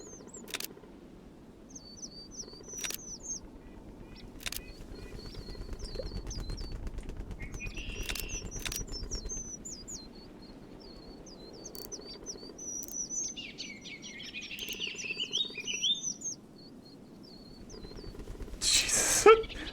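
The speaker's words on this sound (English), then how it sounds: "that's a bunch of birds" A flock of birds outdoors, with repeated high chirping calls and bursts of wing flapping over a low rumble. Someone talks intermittently.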